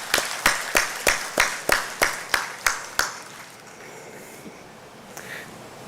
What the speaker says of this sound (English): Give a good round of applause for that.